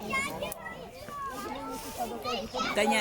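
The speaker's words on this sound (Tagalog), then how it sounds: "Ang ingay ng mga bata, oh, sa Masukal." Children shout and chatter noisily at an outdoor public barbecue gathering in the Czech Republic, a steady, busy wash of young voices throughout.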